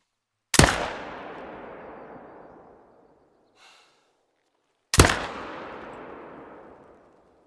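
Two loud, sharp rifle shots in theHunter hunting game, a few seconds apart, each followed by a long rolling echo fading away, with a faint soft rustle between them.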